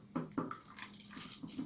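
Water sloshes and splashes as a clay pot is washed, with a few soft, close splashes and trickles in a quiet setting.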